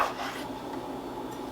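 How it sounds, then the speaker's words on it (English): Sliced chicken pieces for Italian chicken sandwiches tossed back into a bowl: a short, close scraping rustle with a soft clatter at the start, fading into a low rubbing hiss. "I'm just gonna toss them back into the bowl"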